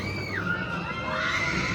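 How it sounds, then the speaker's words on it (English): On an amusement park ride at Disney California Adventure, next to Avengers Campus, riders scream together at a distance, with a rising wail of shrieks over steady crowd and ride noise. "They're screaming like they're gonna die."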